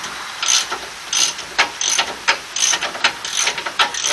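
A ratchet clicks in quick, repeated bursts while tightening 21 mm brake caliper mounting bolts on a 2003 Dodge Ram 1500's rear brakes, close and crisp with a steady back-and-forth rhythm.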